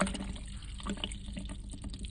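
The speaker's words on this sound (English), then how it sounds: "A quarter cup of water." A quarter cup of water is poured into a blender holding chickpeas and tahini, a close, soft, continuous splashing trickle that fills the whole short moment without speech.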